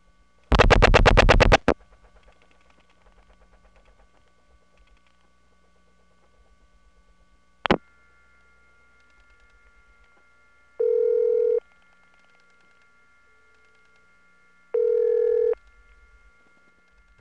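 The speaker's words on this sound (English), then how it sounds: "Before I finish dialing, take a listen to the background noise on this trunk." A 1979 telephone trunk line from Atlanta's Trinity central office carries a faint, steady hum and hiss, broken by a loud opening tone burst, a sharp click, and two shorter steady tones.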